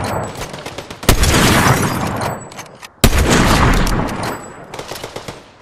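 Gunfire in the video game Fortnite, with two sharp loud shots each followed by a dense burst of rapid fire and rolling echo, close and dominating the mix.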